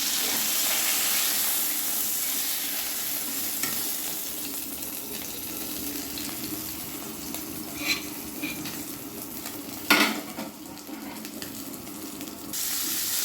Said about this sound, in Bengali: এবারে বাকি মাছগুলো ভেজে নিচ্ছি।